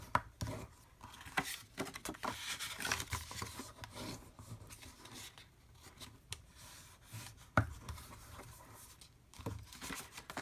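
Paper being folded and burnished along score lines for a papercraft treat basket, heard as close, irregular rubbing, scraping and creasing strokes with occasional sharper taps, with no talk.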